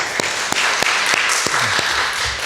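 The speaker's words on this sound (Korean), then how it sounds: "격려의 박수 한번 드립니다." A church congregation claps in encouragement during a Wednesday service, a short burst of scattered, fairly loud applause with distinct individual claps over a few seconds.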